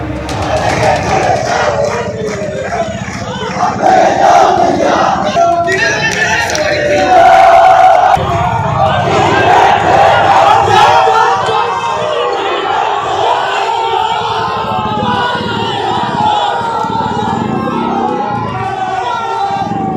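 Political supporters outside a college gate in Barasat chant slogans at a convoy, a loud, dense crowd roar of shouted rhythmic chanting that continues throughout, with overlapping voices.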